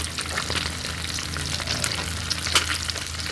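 Rice frying in a pan, a continuous crackling sizzle with stirring scrapes, fairly quiet and close, without talk.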